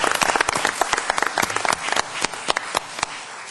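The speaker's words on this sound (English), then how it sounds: "so we want to give her a hand of applause" An audience at a parish council meeting gives a few seconds of steady applause, with dense overlapping claps that thin out toward the end.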